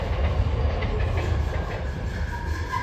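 A train runs along the railway line just behind an industrial training institute in Santalpur, making a steady, fairly loud rumble with a faint clatter of wagons throughout. No voices.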